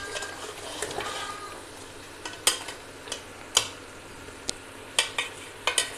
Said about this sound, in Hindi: अब हम इसको थोड़ा मसाले को जो हिला रहे हैं, फ्राई कर रहे हैं साथ साथ